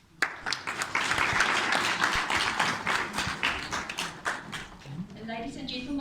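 An audience claps and applauds at a school certificate ceremony, honouring learners as they receive awards; steady dense clapping lasts several seconds, then fades as a voice begins speaking.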